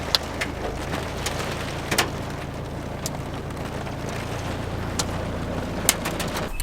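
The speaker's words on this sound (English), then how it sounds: "Man, getting hailed on here." Hail pelting a car and the solar panel on it, a dense, steady patter of small impacts with occasional sharper knocks, heard up close over gusty wind noise.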